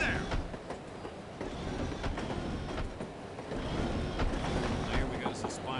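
A train rolling along in the video game No One Lives Forever, a continuous rumbling rail noise with rhythmic clattering carried under a conversation between voices.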